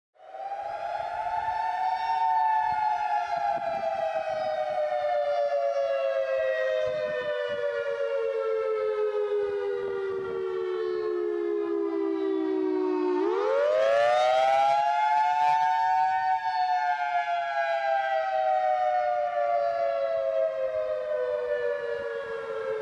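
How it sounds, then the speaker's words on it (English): A tornado civil defense siren wails alone, its tone slowly sliding down over several seconds, then sweeping back up and holding in a long rising-and-falling cycle, loud and sustained. "I'll play a less known but still nerve-wracking tornado siren."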